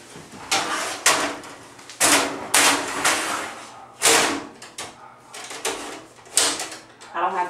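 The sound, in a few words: X-ray cassette sliding out of the table's grid tray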